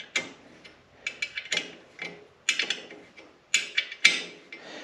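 Ratcheting on a single point connector of a John Deere 1025R compact tractor, heard as close, irregular bursts of clicking turns with short pauses between them.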